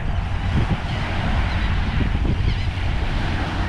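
Large flock of seagulls squawking behind a shrimping boat on the Gulf coast, steady dense bird noise mixed with heavy wind buffeting the microphone.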